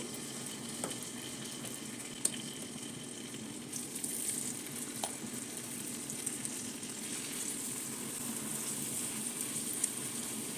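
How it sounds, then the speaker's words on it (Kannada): Tandoori chicken with a little oil fries in a pan on medium flame, giving a faint, steady sizzle with occasional small ticks and pops. "ಈಗ ಇದನ್ನು ಹಾಗೆ ಫ್ರೈ ಮಾಡಿಕೊಡೋಣ"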